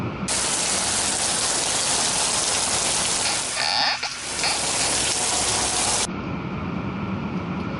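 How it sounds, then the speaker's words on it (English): Steady, dense rainfall on a muggy day in Southern California, a loud continuous hiss that stays unbroken for several seconds before abruptly softening. "It's actually really rainy and muggy right now"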